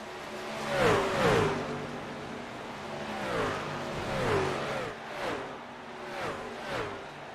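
Race trucks in a sim racing game at Texas Motor Speedway whoosh past one after another in the pit lane, a repeating series of rising and falling engine passes, moderately loud with no talk.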